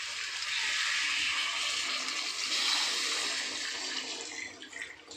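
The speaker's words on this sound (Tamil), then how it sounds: "இப்போ இதில் நம்ம ஒரு சொம்பு அளவுக்கு தண்ணி மிக்ஸ் பண்ண போகிறோம்" Water poured into a pot of chicken curry with mixed masala, a steady splashing pour lasting several seconds before tapering off near the end.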